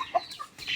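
Chickens in a rural village yard, a few short clucks and soft calls close by, brief and fairly quiet against faint background noise.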